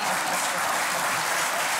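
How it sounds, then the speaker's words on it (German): A television cooking show's studio audience applauds, a dense, even burst of clapping from many hands, loud and continuous with no talk over it. "jetzt klatschen"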